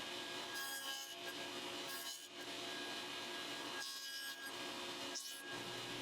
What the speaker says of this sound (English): Since I made all the shoulders exactly the same size, I could just set the dado stack to that height and then rotate the piece after each side was cut.